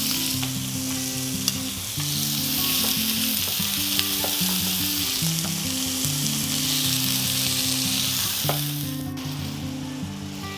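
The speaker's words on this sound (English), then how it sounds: "Fried mushroom in oil and minced garlic." Mushrooms and minced garlic fry in oil for dolsot bibimbap, a loud continuous sizzle with occasional stirring clicks, steady throughout and free of voices.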